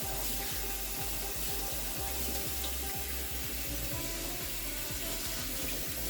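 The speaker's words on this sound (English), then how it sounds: "so you make sure you rinse it properly" Vegetables for a fumbwa peanut butter dish are rinsed under a running tap, a steady soft gush of water into a sink with small irregular splashes as the leaves are handled, fairly quiet and with no talking.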